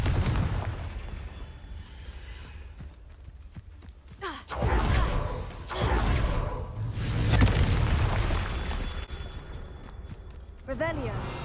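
Fiery spell blasts in the fantasy game Hogwarts Legacy, several deep booming explosions going off one after another, loud and close, with game ambience between them.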